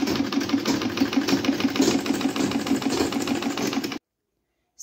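A sewing machine runs steadily while stitching the side seam of an A-line top, a fast even mechanical chatter held for about four seconds before stopping abruptly into silence.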